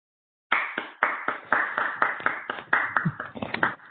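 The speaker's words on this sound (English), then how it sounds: "please unmute yourself to give Cameron a nice big applause" Scattered hand claps from a small online audience after a plasma acceleration science talk, sharp irregular bursts of clapping from a few unmuted participants that start abruptly and continue to the end.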